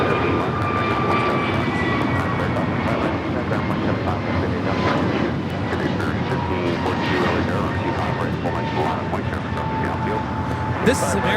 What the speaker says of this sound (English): 1024 taking off to Orlando, Florida on the A321neo